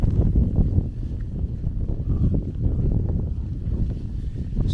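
Strong wind roars across a fell summit on Binsey in the Northern Fells of the Lake District, a steady close buffeting rumble of gusts hitting the microphone without a break.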